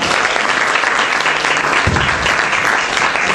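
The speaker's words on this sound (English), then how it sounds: "Let's give Richard and Kat another round of applause." A crowd at a talk during a diversity week event bursts into loud, sustained applause, a thick wash of many hands clapping continuously throughout.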